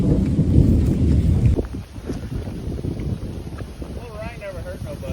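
Outdoor rain and thunderstorm at a pipe-fence building site, a heavy rumble of thunder at first, then steady rain hiss and wind noise against the microphone, loud and close.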